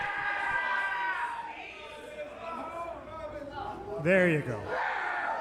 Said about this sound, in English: The crowd is fully into it